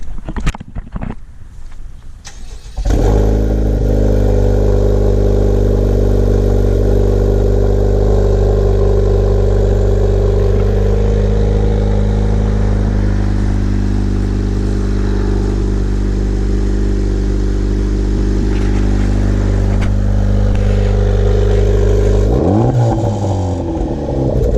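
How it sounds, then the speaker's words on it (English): A 2023 Honda Civic Type R FL5 with an AWE Touring exhaust cranks and fires up, then settles into a loud, steady, deep idle that holds for about twenty seconds before a short blip near the end. "we're going to go ahead and start it off for the first time and hear it to come to life"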